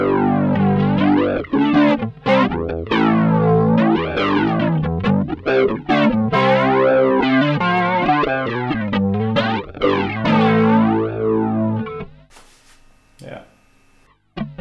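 Distorted electric guitar chords played through an Arion Stereo Flanger pedal, with a sweeping, swirling whoosh moving up and down through the tone, loud and sustained, ending with a few scraping noises.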